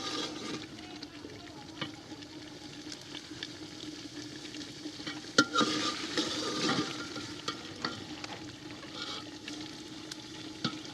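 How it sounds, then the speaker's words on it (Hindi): Mutton browning in oil in a degi-style pot gives a steady, moderate sizzle and bubbling, with occasional scraping stirs and one sharper clatter near the middle; faint voices sit low in the background. "दस मिनट तक इसे ऑयल में भूनेंगे।"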